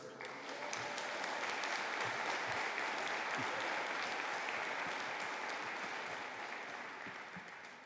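Sustained, dense applause from a large audience at a graduation conferring ceremony, steady and loud throughout before tapering slightly at the end.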